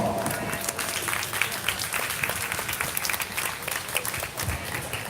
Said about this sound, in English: Let's go and give all those young people a big round of applause.